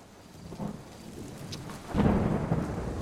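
Thunder rumbles over steady falling rain outdoors near a rooftop terrace, growing louder and heavier toward the end, with no voices.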